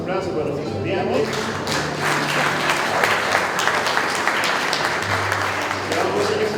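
An audience at a graduation ceremony for motorcycle and vehicle mechanics students applauds steadily, dense clapping filling the room throughout with a low hum underneath and no pause.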